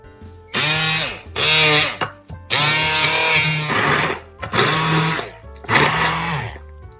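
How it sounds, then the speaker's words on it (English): An immersion blender purees fresh strawberries, loud close bursts of whirring motor separated by brief pauses, about four pulses in a row with the pitch shifting as it works through the fruit. "I am going to use an immersion blender"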